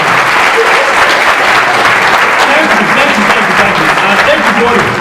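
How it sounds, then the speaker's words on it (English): Steady, loud applause from a packed crowd at a live event, thanking a performer named Jordan; dense clapping holds evenly for the full five seconds with no pauses. "Give him a big round of applause."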